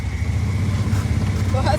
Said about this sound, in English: We're going for a ride in a golf cart.